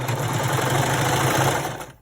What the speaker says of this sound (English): Now I'm set up for a 4-thread overlock, and I want to show you what that looks like.